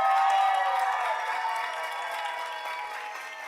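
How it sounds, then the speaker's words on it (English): An audience applauds the finalists at the UCSF Grad Slam 2025 competition. The clapping starts full and fades gradually over a few seconds, with no speech over it. "Big round of applause again"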